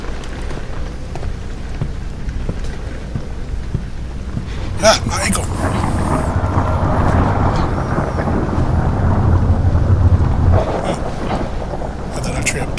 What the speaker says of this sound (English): Thunder rolls and lightning strikes.